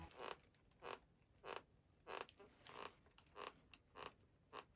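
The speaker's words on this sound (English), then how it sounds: "the left shoe was creaking" The left suede shoe creaking with each step while someone walks around a house, a steady run of short, crisp squeaks, close and quiet with no talking.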